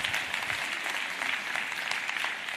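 A conference audience applauds with steady, dense clapping that carries on throughout, fairly loud and without voices.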